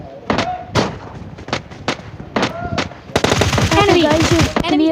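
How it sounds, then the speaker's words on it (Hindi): Gunfire in PUBG Mobile Lite with a boat nearby: several sharp single shots spaced apart, then a dense automatic burst, with a voice talking over the later part. "गाइस प्लेयर दूसरे बोट के ऊपर गोली चला रहा था।"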